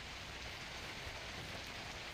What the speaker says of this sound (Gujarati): સાબરકાંઠા જિલ્લામાં ભારે વરસાદ પડ્યો